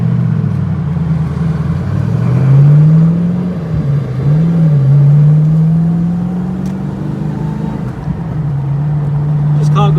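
A TVR Chimaera convertible's engine drones loudly on an open road, its pitch climbing and dipping with shifts in speed and briefly rising with acceleration, under a constant rush of wind and road noise.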